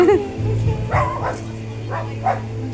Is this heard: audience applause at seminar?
no